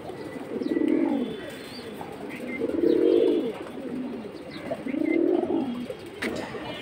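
A male Jabra Pankhi pigeon coos close by in three rolling, evenly spaced bursts, with faint chirps from other birds in the background.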